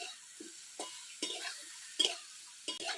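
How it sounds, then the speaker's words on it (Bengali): Soybean chunks frying in oil in a wok for a Bengali village dish, heard as soft sizzling under a series of distinct stirring scrapes spaced about every half second, fairly quiet and close. "এই দেখো সোয়াবিন কি সুন্দরভাবে ভাজা হয়ে গেছে, লাল লাল করে।"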